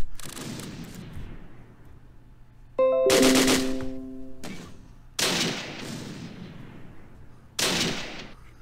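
Game gunfire in a World War II village assault in Close Combat, with tank and infantry weapons: several separate loud bursts of shots and booms, spaced a few seconds apart, each followed by a fading echo, with no voices.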